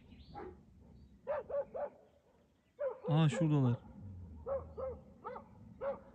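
A few short dog barks and yips at a moderate distance, mixed with a person talking nearby.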